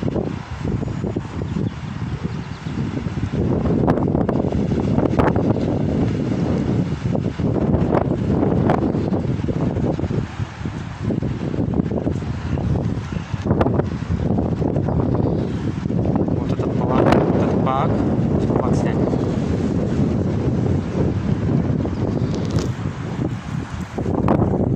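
Strong wind buffets the microphone outdoors on a city street beside buildings, a loud continuous rumbling roar throughout, with someone talking intermittently beneath it.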